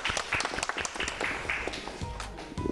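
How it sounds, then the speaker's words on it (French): An audience claps at a debate event. The applause is moderately faint with scattered sharp claps, and a voice occasionally rises briefly over it. "On applaudit, mesdames et messieurs."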